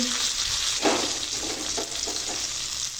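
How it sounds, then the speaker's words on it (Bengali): Shrimp fry in hot oil with dried red chilli, bay leaf, chopped onion and garlic, giving a steady, close, loud sizzle with a few brief surges of crackle and no voices. "দিয়ে ভালো করে লাল লাল করে ভেজে নেব"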